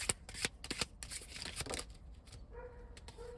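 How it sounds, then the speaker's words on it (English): Close, crisp riffling and slapping of tarot cards being shuffled in quick bursts, followed by a faint tonal hum near the end. "I'm currently shuffling the first deck just to start the reading"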